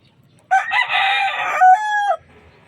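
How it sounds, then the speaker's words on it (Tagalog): A rooster crows once, loud and close, a long drawn-out cock-a-doodle-doo among chickens in a rooftop garden, with quiet surroundings before and after. "We have some chickens here."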